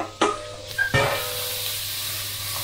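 Onion, celery and pepper frying in a pan for a Cajun chicken and smoked sausage jambalaya, a close sizzle and hiss broken by a few scraping stirs and clanks near the start, then steady frying.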